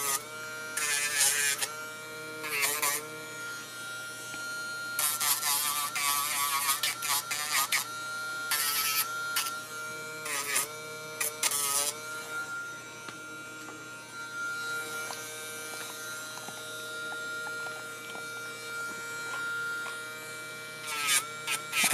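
A rotary Dremel tool grinds a Cavalier King Charles Spaniel's nails, its high motor whine coming in repeated short bursts with pauses between, close by, then softening into a quieter steady hum later on.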